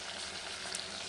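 Crab sizzles in hot oil in a home kitchen, a soft, steady crackling fry heard faintly and close, with no voices.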